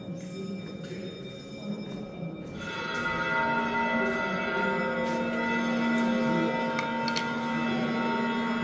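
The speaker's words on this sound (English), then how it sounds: "you can hear the bells" Church bells ring out at the Church of the Holy Sepulchre in Jerusalem during an Orthodox occasion, a sustained metallic peal that swells and grows louder after the first few seconds, with no one talking.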